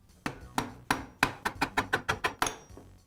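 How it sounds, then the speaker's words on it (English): Rubber mallet tapping a spindle out of a Porter Cable sander's eccentric housing held in a vise. About eleven dull, solid knocks land close by, slow at first and then in a quicker, even run, with no voices. "Then I'll use a rubber mallet to tap the spindle away from the housing."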